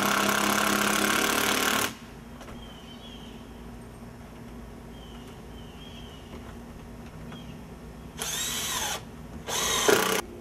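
A power drill drives screws into a window frame during a window installation in a blank supporting wall: one long, loud whirring burst, a quiet pause, then two shorter bursts near the end.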